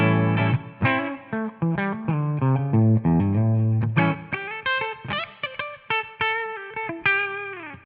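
Distorted electric guitar played through a 2 Stone SS Ultimate amp with only the deep switch engaged, a series of strummed chords and riffs, close and loud, with a chorus-like effect.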